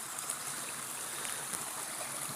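Stream water flowing steadily through Nutclough Woods near Hebden Bridge, a constant broad rushing trickle with no pauses and no voices, close and moderately loud.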